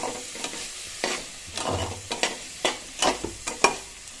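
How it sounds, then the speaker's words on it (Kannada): Onions and green chillies crackle in hot oil as a tempering for a drumstick-leaf curry, with bursts of sizzling and a series of scraping stirs at an irregular rhythm, close and clear without talk. "ಈರುಳ್ಳಿ ಹಾಕಿ ಒಗ್ಗರಣೆ ಹಾಕ್ತಾಯಿದ್ದೀನಿ"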